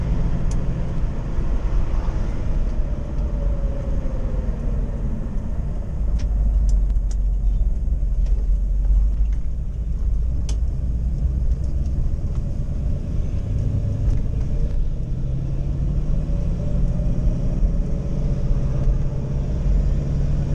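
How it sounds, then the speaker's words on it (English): A 1977 Pontiac Trans Am engine idles with a low, steady rumble throughout, with faint ticks and clicks over a constant deep drone; no voices. "I hope the sound of the car can come through on the video, because it's a pretty sounding car."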